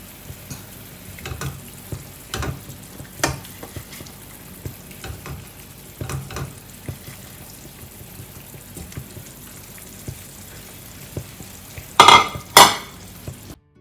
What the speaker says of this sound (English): once the coconut milk starts boiling, we can reduce the heat and add in our fish